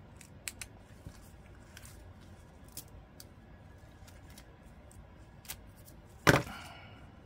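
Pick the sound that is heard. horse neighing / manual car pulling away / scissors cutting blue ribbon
scissors cutting blue ribbon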